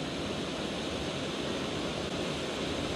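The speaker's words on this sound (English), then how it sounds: "With the weir." Water pours over a weir on the River Ancholme, a loud, constant rushing roar close by that does not let up.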